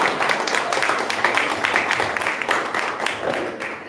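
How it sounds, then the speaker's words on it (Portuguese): A church congregation claps for Jesus during a service, a dense, steady patter of many hands applauding together at moderate volume and gradually easing toward the end. "Vamos aplaudir Jesus de novo"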